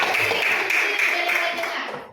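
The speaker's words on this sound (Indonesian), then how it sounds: "benar, tepuk tangan" Steady applause from a class, a dense wash of clapping hands that holds for about two seconds before fading out.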